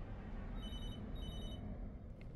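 Telephone ringing in the video game Beyond: Two Souls, with short repeated high electronic bursts over a heavy low rumble of background noise and no voices.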